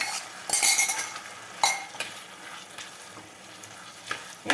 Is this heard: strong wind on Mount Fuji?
no